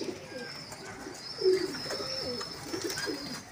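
Golden domestic pigeons coo softly in a loft, with several low, rolling coos repeating at intervals over faint background chirps and a quiet ambient hiss.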